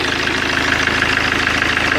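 Engine of a 2011 Fiat Ducato van, which had trouble starting when cold, running steadily after repair with a loud, even, close idle and constant rhythmic mechanical clatter.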